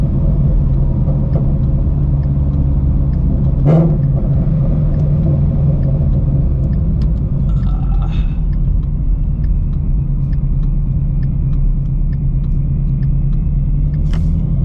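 A supercharged Shelby GT350 is driven hard, its engine producing a loud, deep, continuous rumble that holds steady through the whole stretch, close by and without speech.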